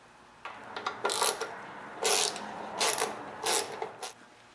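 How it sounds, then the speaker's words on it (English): A ratchet loosens a bolt on the front of a Kohler Command engine cover in four or five short, close bursts of crisp clicking, each under half a second, with short quiet gaps between them. "Next, I'm going to remove this bolt here in the front of the engine."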